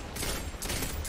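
Rapid automatic gunfire from the Redrix Claymore pulse rifle in Destiny 2 Crucible multiplayer, a dense, loud burst of shots that fills the whole short moment with no talking.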